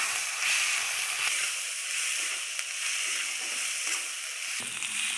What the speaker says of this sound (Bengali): দিয়ে নাড়িয়ে নিচ্ছে, কষিয়ে নেবে পেঁয়াজটাকে।